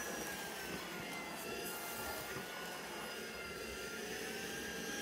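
Tineco Pure ONE S11 cordless stick vacuum fitted with a crevice tool cleaning stairs, a steady high whine with a rushing airflow hiss that holds throughout at moderate volume.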